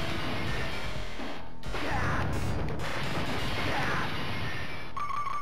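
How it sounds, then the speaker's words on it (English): Glass smashes in the Street Fighter video game, a dense, continuous crashing clatter that stays loud throughout with a few brief gaps. "I broke glass, my fingers aren't bloody."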